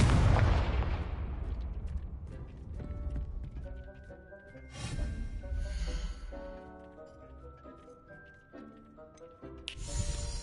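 Loud magical blast from the Confringo fire spell in the Hogwarts Legacy video game, a burst of booming explosive noise up front over layered game music, with a second surge near the end.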